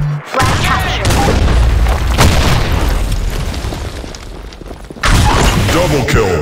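A grenade explodes in the BlackShot shooter game with a loud, close boom and a long rumbling decay, followed by a second blast near the end. Voices are heard between the blasts.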